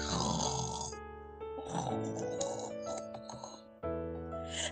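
A voice makes exaggerated snoring and grunting noises, imitating a sleeper, over soft background music.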